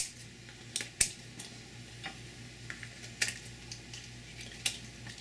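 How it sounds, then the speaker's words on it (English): Knife cutting dried California chiles into smaller pieces on a board, a series of sparse, crisp ticks and snaps at an irregular pace, close and fairly quiet, with no talking. "I'm going to cut these up in a little bit smaller pieces"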